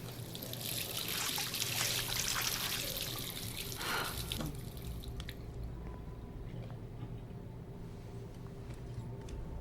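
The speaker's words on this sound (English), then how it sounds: "we're going to splash some water on our face" Running water splashing at a bathroom sink in the video game Life is Strange, a close trickling and splashing wash that tapers off midway to a quieter ambient hum.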